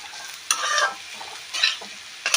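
Beetroot and potato stir-fried together in a pan: bursts of scraping stirring over a continuous soft sizzle, three main strokes spaced about a second apart, close and clear.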